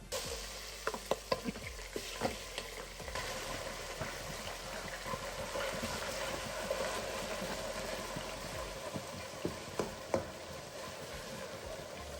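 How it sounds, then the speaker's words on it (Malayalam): Chicken rubbed with salt, chili and turmeric sizzles steadily in hot oil while a spoon stirs it, giving scraping clinks against the pan over a constant frying hiss. "എണ്ണ ചൂടായി. ചിക്കൻ ഇട്ട് കൊടുക്കാം."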